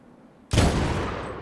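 A single sniper rifle shot in Medal of Honor cracks loudly after near-silence, its sharp report trailing into a long, rumbling echo that fades over about a second.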